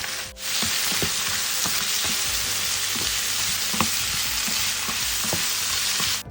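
Carrot, cauliflower and broccoli stir-fry for prawn fried rice, with a bright, constant sizzle and a run of sharp scrapes and clinks from the spatula working the pan, all close up with no voices.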